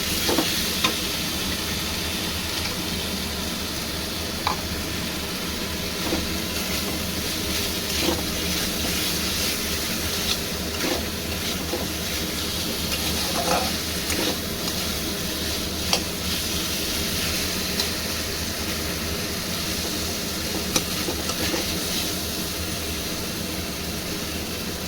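Koi fish curry fries and sizzles in a pan as it is stirred, a steady hissing sizzle with occasional soft scrapes and clicks from the spoon, continuous and fairly close.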